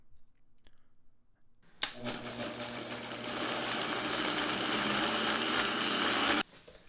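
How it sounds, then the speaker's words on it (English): A blender switches on after a click and whirs steadily for several seconds, grinding spinach with warm chicken stock at close range before cutting off abruptly. "dump it into our blender with a little bit of warm chicken stock"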